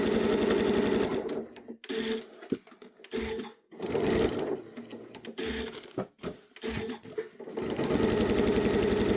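A sewing machine stitching small silk scraps runs in close, loud bursts of rapid mechanical clatter, stopping and restarting several times with short pauses between runs.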